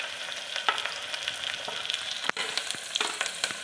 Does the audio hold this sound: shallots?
yes